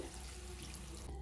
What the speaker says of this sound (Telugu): ఇప్పుడు వాటర్ కొన్ని వేసుకుని